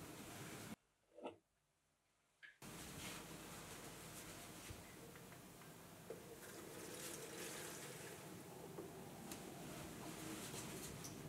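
Water trickles and flows steadily over deposited flour in an erosion experiment, a continuous soft wash with a brief quieter break near the start.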